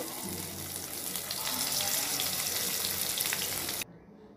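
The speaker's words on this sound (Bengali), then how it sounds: "মাছগুলোকে আমি ভালো করে ভেজে নেব।" Hilsa fish tail pieces frying in hot oil in a pan, a loud, steady crackling sizzle held close for several seconds before cutting off abruptly.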